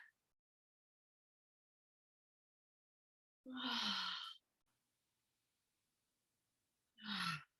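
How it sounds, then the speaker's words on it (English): Two deep audible exhalations, each roughly a second long with a sighing, breathy 'ha' quality, separated by several seconds of silence; close and clear, used to settle and ground before restorative yoga. "Now I'm going to take some nice deep breaths with my essential oil to get me prepared and grounded"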